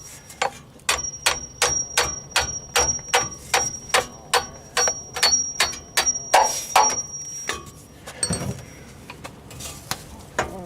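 A screwdriver is hammered into a stuck oil filter on an RV in a steady run of about fifteen sharp metallic blows, close and loud, ending in a few scraping, clanking moves.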